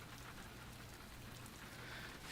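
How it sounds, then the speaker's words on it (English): Steady rain falling as a visual novel sound effect, a soft even hiss of drops with no other sounds. "he returned his attention to the sound of the rain."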